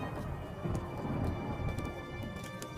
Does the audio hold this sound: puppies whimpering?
no